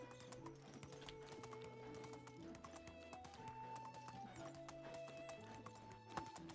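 A donkey's hoofbeats clop along in Medieval Dynasty, faint and rhythmic beneath a bed of medieval-style music with plucked and sustained tones.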